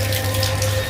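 Tap water runs steadily into a sink while clothes are being washed, a continuous close splashing stream with no voices.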